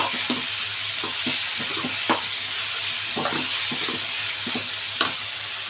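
Tomatoes and onions sizzle and fry in a pan, a steady loud hiss with repeated scraping stirs and small pops throughout, no talking.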